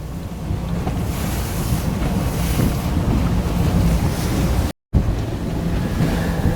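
A pontoon boat fitted with a hydrofoil runs south at about 3,600 RPM on open water, its steady broadband rush of hull, spray and wind noise filling the scene, with one brief dropout before the roar resumes.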